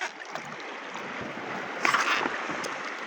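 Steady broadband wash of strong waves slapping around a small fishing boat at sea, continuous and close, with a brief louder surge near the middle and no talk.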